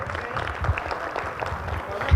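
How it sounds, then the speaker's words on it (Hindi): An audience at a national astrology conference at the City Palace in Udaipur gives a short burst of applause, moderate and steady clapping lasting about two seconds with a voice speaking faintly beneath it. "एक बार ताली बजा दीजिए"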